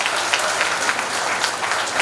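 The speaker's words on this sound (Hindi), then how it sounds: "मुझे लग रहा है कि एक बार जोरदार ताली की जरूरत है" Sustained audience applause at a Foundation Day programme, dense steady clapping from a seated crowd with no talk over it.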